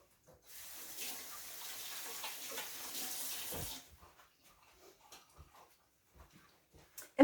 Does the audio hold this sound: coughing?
no